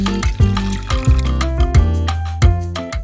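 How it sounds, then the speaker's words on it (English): A cup of water poured into a saucepan of melted butter over medium-high heat for churro dough, a close, steady liquid pour with gurgling and splashing. "to it I'm going to add in the cup of water"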